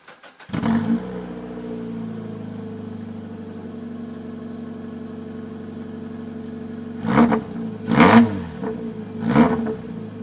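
A Mazda MX-5 with a straight exhaust pipe idles with a low, steady burble, then blips its throttle in three sharp revs toward the end.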